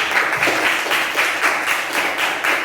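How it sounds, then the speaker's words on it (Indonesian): Steady applause from a primary school class cheering classmates, a dense wash of many hands clapping at once, loud and close, with no speech. "Berikan aplaus dulu buat teman-teman yang sudah."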